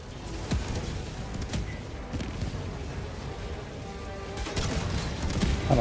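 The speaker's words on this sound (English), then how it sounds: "It is a grenade launcher." Grenade launcher fire in the Helldivers 2 video game during a solo defence mission, several sharp booming blasts spaced irregularly amid rumbling explosions and battle noise, with no talk.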